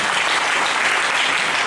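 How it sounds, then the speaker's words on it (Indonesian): A church seminar congregation in Duri, Riau, applauds together, a dense, steady wash of clapping held at full strength throughout, with no voices rising above it. "Berikan lagi tepuk tangan bagi Tuhan Yesus."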